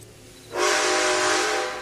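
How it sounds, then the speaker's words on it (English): A train rushes past in an Apex Legends-style shooter game, arriving abruptly as a loud, steady roaring hiss with whistle-like tonal streaks that holds for over a second before easing slightly. "Think this train will run me over?"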